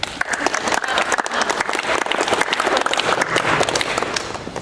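Lively audience clapping at a theater talkback for a durational performance, a dense, steady patter of many hands held at an even level throughout.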